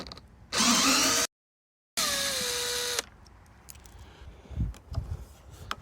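A Hayward sand filter dial being turned by hand gives two bursts of loud mechanical grinding and clicking, split by a short pause and followed by faint handling taps.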